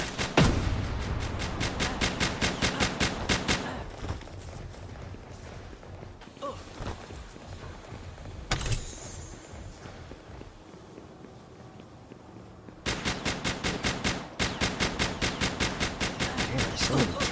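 Turrets fire in the game Palworld in fast, regular bursts of rapid shots, loud at the start and end with a quieter stretch of softer action sounds between.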